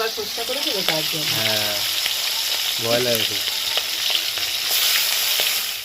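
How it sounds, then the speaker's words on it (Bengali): Fish pieces for a curry sizzle and crackle steadily in hot oil, fried crisp, a constant loud frying hiss, with a voice speaking briefly over it. "মাছগুলোকে বেশ কড়া করে ভেজে নেব"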